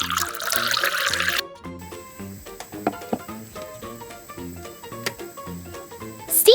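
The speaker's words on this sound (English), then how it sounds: "Water." Water poured during cooking, with lemongrass for a steamed curry dish, runs in a brief steady pour at first and then gives way to small drips and clinks, close and fairly quiet.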